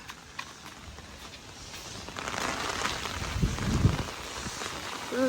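Steady rain patters on a surface with a constant wash of hiss, building a little louder toward the end.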